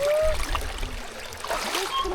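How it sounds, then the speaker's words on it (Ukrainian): A small waterfall on a rocky stream in the Butsky Canyon gives off a steady, close rushing and splashing hiss that fills the whole moment, with faint outdoor sounds around it. "О, тут ще один водоспадик."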